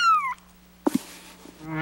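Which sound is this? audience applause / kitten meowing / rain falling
kitten meowing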